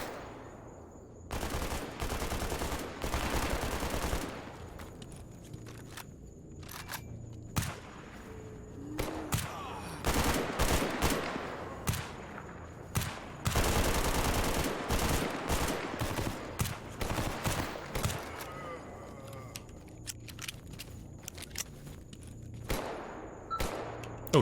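Rapid bursts of automatic gunfire cut in and out at close range as zombies are shot in the game Stalker Gamma, with heavy volleys separated by short quieter gaps.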